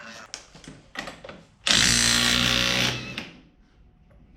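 Close, loud power tool whirring for about a second and a half while removing an axle nut during an axle change, between quieter handling clatter and brief speech.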